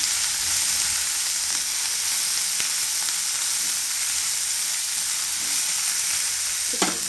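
Chopped green chillies fry in a pan with garlic for a North Karnataka palya, a loud, steady, close hissing sizzle with one or two faint stirring taps and no speech.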